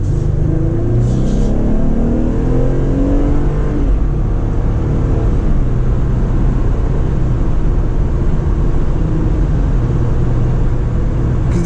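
A 2018 Jeep Wrangler Unlimited Rubicon JL accelerates under moderate throttle. Its engine note climbs steadily over a loud, constant road rumble, heard close from inside the vehicle with no talk.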